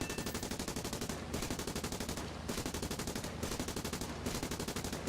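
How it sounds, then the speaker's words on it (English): Turret machine guns on a Sunderland flying boat in the War Thunder video game fire steady rapid bursts with short gaps between them, loud and close, with no voices over the firing. "I'm trying not to jam my turret, that's why I'm firing bursts here"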